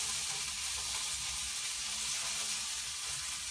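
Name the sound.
garlic and ginger sizzling as they are stirred in hot oil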